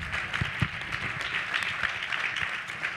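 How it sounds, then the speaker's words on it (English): Audience applause for a speaker at a convention, moderate, steady clapping from a crowd with a few louder claps, no clear talking over it. "Let's give him another round of applause"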